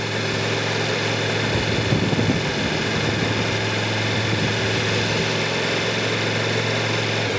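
An engine held at steady throttle hums evenly and loudly throughout, a continuous drone with a vibrating edge and no voices.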